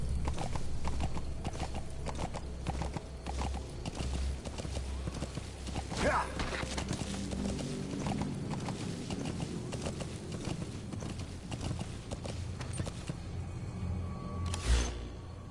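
Horse hooves gallop steadily in Metal Gear Solid V: The Phantom Pain, a rapid rhythmic clip-clop running throughout under low game ambience, with a brief sharp sound near the end.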